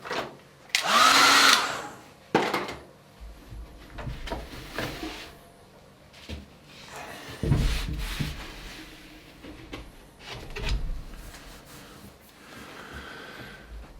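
A hair dryer blows over a watercolour painting in bursts, with loud rushing air early on and then softer intermittent blasts amid rubbing and handling noises.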